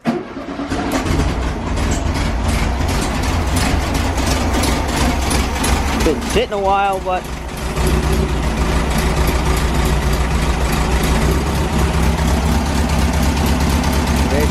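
A 1973 Baja Beetle's air-cooled engine idles steadily and loudly right after its first start in a while, a continuous low rumble that stays up close throughout, with someone talking over it at times.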